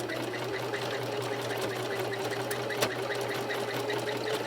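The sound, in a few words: sewing machine stitching a doll's jean skirt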